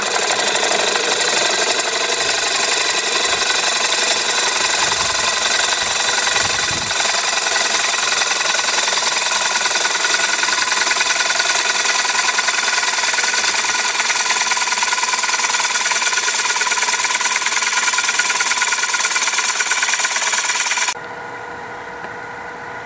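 A carbide tool cuts a wooden bowl spinning on a lathe, giving a continuous loud, gritty rasp with a steady whir underneath. It runs without pause for about twenty seconds, then drops abruptly to a quieter hum.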